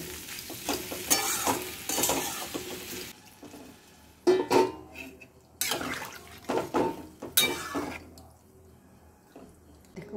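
Food sautéing in a pan crackles in loud bursts as it is stirred, with quieter gaps between the scrapes and spatters.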